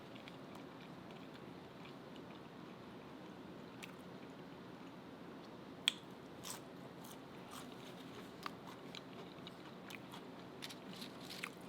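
Quiet, close crunching as a homemade chicken nugget is bitten and chewed, scattered sharp crackles over a low steady background hiss.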